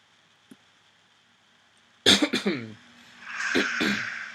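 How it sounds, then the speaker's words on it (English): A quick cluster of three or four harsh coughs up close, followed by a raspy throat-clearing breath after a near-silent pause. "Sorry for all the coughing, too."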